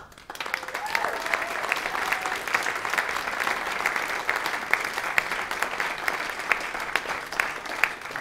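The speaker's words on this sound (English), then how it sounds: "So give yourself a big round of applause." A concert audience at a London tribute concert gives sustained applause, a steady wash of many hands clapping with scattered louder claps, while a voice is briefly heard near the start.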